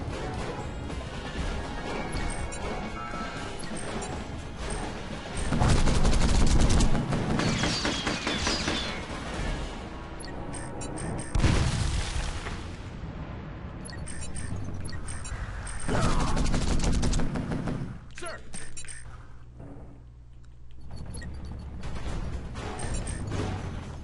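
Gunfire and crashing impacts in the strategy video game Field Commander, with dense repeated bursts and heavy booms that swell and fade over a continuous battle-music bed, loud and close throughout.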